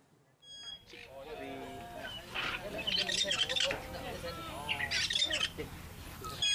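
Pet cockatoos kept as a hobby in Batu Gajah, Perak, squawking loudly and repeatedly in harsh screeching bursts close by, along with chirps and whistles, while a person talks.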